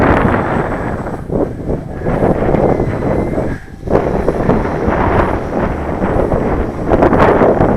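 Strong wind blowing across an open field where a radio control model plane is flown, heavy, gusting rumble buffeting the microphone, loud and continuous with a short lull partway through.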